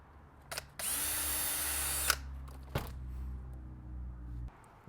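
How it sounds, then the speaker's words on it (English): A small powered tool whines in a steady burst of about a second as a hole is made through a rubber grommet in a Tesla Model 3, followed by short clicks and a brief second buzz, close and quiet. "So I'm just going to poke a small hole through this so we can get our wire through it."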